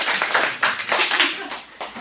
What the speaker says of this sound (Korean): 오, 박수. 우리 박수.